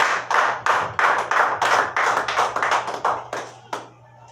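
A church congregation claps in unison to acclaim Jesus, about fifteen sharp, evenly spaced claps at a steady brisk rhythm over a low hum, fading out at the end.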